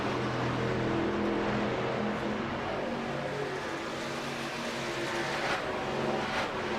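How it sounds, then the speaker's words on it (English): Stock trucks roar down the long Pocono Long Pond straightaway in an iRacing truck series race, a steady, loud pack of engines droning together with rising and falling pitch as they pass. "Listen to those trucks thunder down the Long Pond straightaway"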